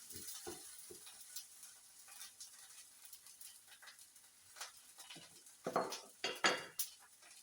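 Banana slices laid into a frying pan of olive oil, giving a quiet sizzle with scattered clinks and scrapes of a utensil against the pan, growing busier and louder toward the end.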